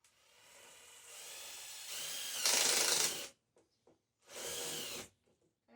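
A power drill with a step bit whirs steadily, rising in pitch as it spins up, stops, then runs again in a second short burst.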